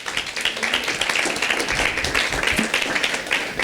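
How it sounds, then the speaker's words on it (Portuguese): A church congregation gives a round of applause, a dense, steady wash of many hands clapping at once that fills the space without pause. "Será que você vai dar uma salva de palmas a Jesus?"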